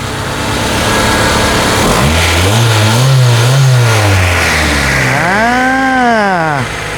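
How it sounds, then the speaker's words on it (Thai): A Honda CR-V engine revs up and down loudly, rising and falling in pitch twice, close by with a steady rumble underneath. "อ่าเสียงเครื่องเป็นยังไงล่ะครับ"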